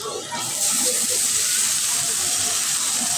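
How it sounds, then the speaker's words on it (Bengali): Onions sizzle steadily in hot oil in a pan on a home stove, a continuous bright hiss that swells after a brief quieter start and holds at moderate loudness, close by and with no talk over it. "এখানে দিয়ে দিলাম তেল পেঁয়াজ, এইটাকেও ভালো করে ভেজে নিব"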